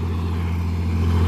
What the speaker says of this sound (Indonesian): Ini sedang memanaskan mesin.